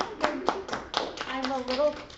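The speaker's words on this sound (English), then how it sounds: "You should all just clap." Junior high students in a classroom clap in a loose, uneven patter of claps lasting about two seconds, fairly faint, with some voices mixed in.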